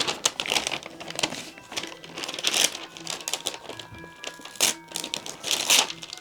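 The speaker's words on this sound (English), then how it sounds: "Oh, I just ripped the paper." Christmas wrapping paper crinkles and rips as a gift is wrapped, with a steady run of close, loud rustling, crumpling and tearing bursts and no talking.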